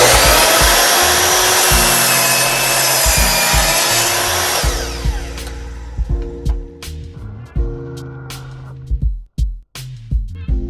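Power tool cutting wood for a DIY address sign: a loud, dense buzzing and grinding for several seconds, then a rhythmic knocking of the motor winding down with intermittent thumps and clicks.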